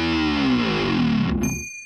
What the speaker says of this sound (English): Frank, lead guitar.